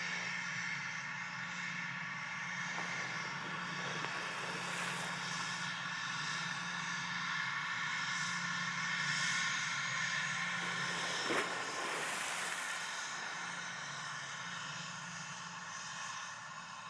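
An airplane takes off from runway 07 at an airport in Jamaica, its engines giving a faint steady roar with whining tones that swells slightly and persists for many seconds.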